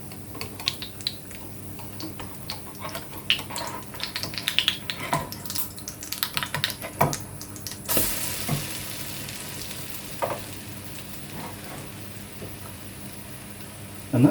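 American-style pancake sizzling in a frying pan, with scattered light clicks and scrapes, then a sudden burst of noise as it is flipped, followed by a steady, softer sizzle.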